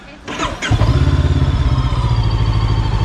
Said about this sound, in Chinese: 然后我们现在打火听一下声音